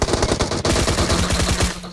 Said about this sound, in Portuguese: Ah não, é muito tiro.